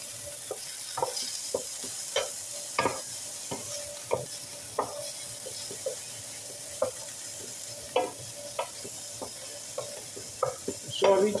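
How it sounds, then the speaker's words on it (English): Ingredients for chicken fried rice sauté in a pan: a constant soft sizzle broken by sharp, irregular scrapes and taps of a utensil against the pan, close and clear with no talking. "Saute these for a couple minutes."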